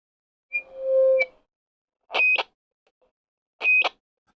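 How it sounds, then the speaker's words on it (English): CB radio roger beep: two short, loud electronic bleeps about a second and a half apart, each clean and isolated after an earlier burst of radio squelch, with no talking over them. "Annoying Roger bleep."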